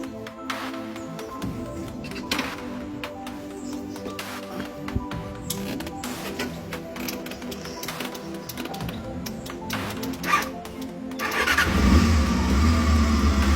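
A Honda Hornet motorcycle engine cranks and catches, then idles unevenly with clicking mechanical noise before revving up louder near the end, close by in a workshop setting.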